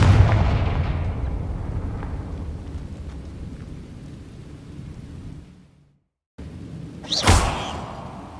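A Confringo blasting spell from Hogwarts Legacy, played on PS5, goes off with a sharp, loud explosive burst after a brief silence, following a stretch of rumbling, thunder-like game ambience.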